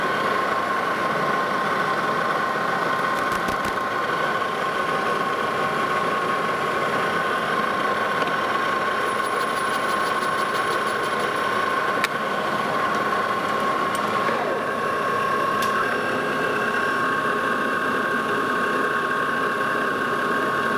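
A machine cuts the outside edge of a steel safe dial for a Victor safe restoration, giving a steady, loud mechanical drone with a constant whine that holds throughout, broken by a few faint ticks.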